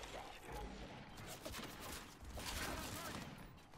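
Dense, continuous rapid gunfire from the video game Gears 5 fills the whole stretch, with overlapping bursts and impacts at fairly constant loudness and some voices mixed in.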